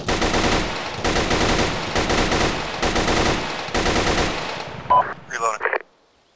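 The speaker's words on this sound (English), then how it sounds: "MMG is shooting really low." Medium machine gun firing in the video game Arma 3, five loud rapid bursts in even succession, then brief radio-like clicks and a short voice before the sound cuts off.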